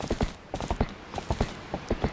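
Horse hooves clip-clop at a steady trotting rhythm in The Legend of Zelda: Twilight Princess HD, with crisp, evenly spaced game footfalls in pairs and no talking.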